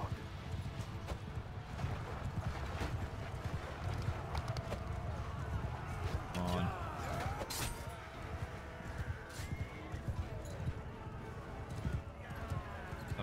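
Horses galloping in a cavalry battle in the video game Mount & Blade II Bannerlord, a continuous rapid drumming of hooves with clinks and a brief whinny amid battle noise, a player talking over it.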